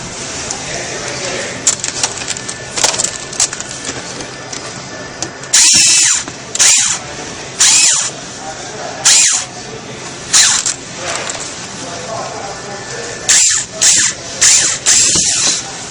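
Cordless power drill backing a screw out of a stainless exhaust filler panel on a Chevy Corvette C6, short bursts of whining motor with clicking pauses between them, close by under a steady background hum.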